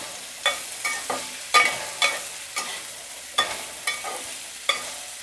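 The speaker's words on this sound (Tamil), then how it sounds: "இந்த இஞ்சி நல்லா வதங்கிட்டு இருக்கட்டும்" Ginger sautéing in sesame oil in a pan, with a soft continuous sizzle broken by about a dozen sharp, regular scraping strokes of a spatula, close and clear, no voices.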